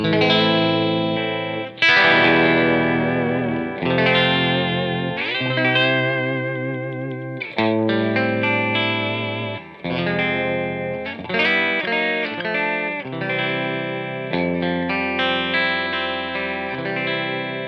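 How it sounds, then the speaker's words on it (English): Bright, strident electric guitar chords from a Fender Jaguar on the bridge pickup ring out one after another, heavily effected with shimmer and slight distortion, played alone without any voice. "you can hear when I have this guitar all opened up on the bridge pickup, it's very strident"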